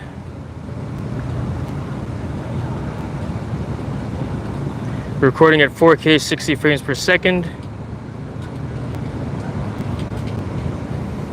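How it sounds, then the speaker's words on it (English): Wind blows at an outdoor waterside spot in a steady low rumble that buffets the microphone, while someone speaks briefly midway and the gusts carry on alone afterward. "Drone seems to be doing okay in this wind. It feels windy"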